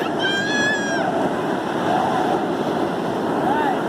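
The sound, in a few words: ocean waves at Bheemili beach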